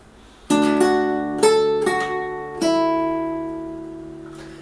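Fingerstyle acoustic guitar playing measure 3 of a piece, with open bass strings under picked upper notes; four plucked attacks, close and clear, each ringing and slowly decaying, with no voice.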